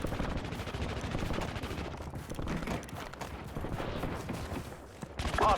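Dense, continuous automatic gunfire from a Call of Duty Warzone match, rapid overlapping bursts filling the whole stretch with no pause, loud and close, ending in a sharper burst.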